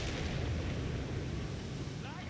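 Bishop self-propelled artillery firing in Company of Heroes 3 on a wetlands map, a dense, loud, continuous roar of booms and rumbling blasts with a commentator's voice faintly under it.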